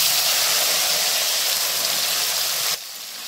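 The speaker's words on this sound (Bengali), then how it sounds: "এরপর ওই মাছ ভাজার তেলে কেটে রাখা ফুলকপিগুলো ভেজে নিচ্ছি" Cut cauliflower fries in oil left over from frying katla fish, making a loud, steady, hissing sizzle that drops abruptly to a quieter level just before the end.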